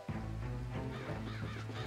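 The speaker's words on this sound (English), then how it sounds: "Just don't want to get, like, swarmed by crows" Crows caw in Luigi's Mansion 2 HD: several harsh, rasping caws overlap in a continuous chorus, fairly close and with no talk, over a low steady background hum.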